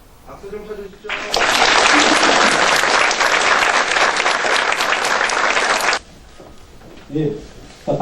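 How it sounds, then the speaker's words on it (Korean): A ceremony audience bursts into loud, dense applause at a port authority president's inauguration during a badge and bouquet presentation. The clapping runs steadily for several seconds, then stops abruptly, with brief speech before and after. "박수 좀 쳐주시죠."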